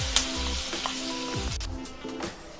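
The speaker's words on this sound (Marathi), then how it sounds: "हा मसाला आपल्याला तेलावरती व्यवस्थित 2 ते 4 मिनिटांसाठी शिजवून घ्यायचा आहे।" Ground masala paste frying in oil gives a constant, close sizzle, with a few quick scraping strokes of a spoon stirring through it.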